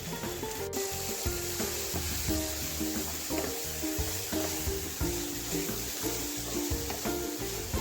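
Vegetables for a quinoa dish frying in a pan make a steady sizzle, overlaid with rhythmic scraping and rubbing from stirring, close and moderately loud, with a single sharp tap near the start.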